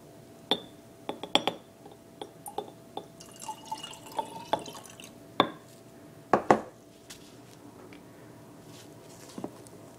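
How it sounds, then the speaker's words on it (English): Magnesium sulfate solution is poured into a glass container, giving a scatter of drips, splashes and light glass clinks spread unevenly through a quiet room, with a few louder splashy bursts midway. "I'm just going to take this magnesium sulfate that's in solution, pour it into there."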